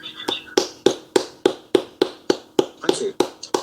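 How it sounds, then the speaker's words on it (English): Steady handclaps after a talk on muon detection at an astronomy society meeting: a dozen crisp, evenly spaced claps close to the microphone, sounding like one or a few people rather than a full crowd. "I think we should all give them a bit of a clap."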